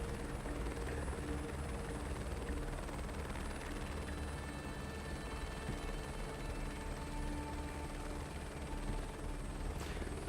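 An H-125 helicopter in Microsoft Flight Simulator 2024 on PS5 Pro, a constant loud turbine whine and rotor drone holding steady throughout with no voices.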